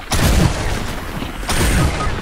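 Two heavy gunshot blasts in the video game Fortnite, booming and close, separated by about a second and a half of rumbling echo.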